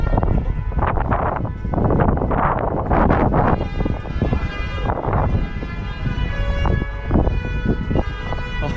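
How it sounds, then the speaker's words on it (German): Tractor horns blare at a farmers' protest in Berlin, with sustained, overlapping honks that swell and fade one after another, loud and close with no talk over them. "Oh, die Hupen, ey."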